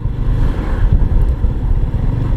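Yamaha R15 V3 150cc motorcycle ridden through city streets, its engine droning steadily and loud with a low rumble and road noise throughout.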